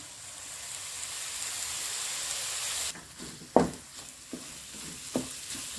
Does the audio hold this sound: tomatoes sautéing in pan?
yes